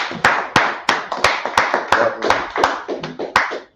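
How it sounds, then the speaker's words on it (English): A class claps in a slow, deliberate rhythm, a dozen or so sharp, evenly spaced group claps ringing out in a room with short reverberant tails between them. "Clap, clap, clap, clap."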